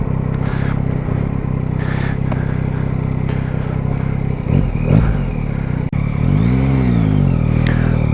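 A new motorcycle's engine roars loudly and steadily up close, with revving surges and clattering mechanical noise, then a sweeping pitch shift as it pulls away.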